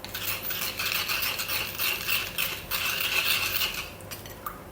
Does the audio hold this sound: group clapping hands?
no